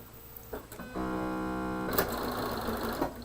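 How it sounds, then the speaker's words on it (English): A sewing machine whirs in a short steady run of about a second, with clicks and handling sounds around it, close by. "So let's go to the sewing machine."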